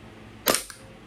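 Green gas blowback airsoft gun fires a single sharp, loud crack with a quick mechanical clack just after, alone against a quiet background.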